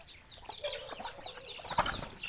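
Chickens and ducks squabble at a rural home, with faint clucking and a sudden flurry of flapping wings mixed into a soft, busy farmyard background.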